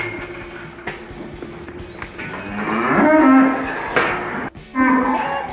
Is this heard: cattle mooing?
yes